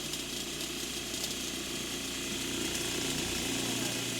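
A homemade rotating tumbler with a tape-wrapped rock inside turns steadily, giving a continuous close mechanical rattle and grinding clatter that stays even throughout.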